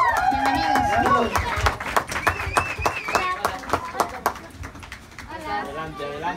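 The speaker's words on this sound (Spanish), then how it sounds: "por favor recibamos con un fuerte aplauso a varios de los integrantes de MasterChef Junior" Audience clapping welcomes MasterChef Junior child cooks onto a stage at a conference, a burst of claps mixed with excited children's voices and greetings, with talk continuing over it.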